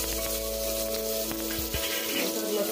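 Chopped onion dropped into hot oil sizzles steadily, with a few clinks against the pan, then the frying settles slightly toward the end; no talking.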